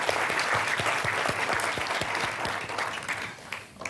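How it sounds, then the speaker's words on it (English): Audience applause for Congressman Barney Frank at an MIT Golub Center for Finance and Policy talk, crisp clapping from a sizable crowd, steady then thinning out toward the end. "let's give Congressman Frank a round of applause as we get started"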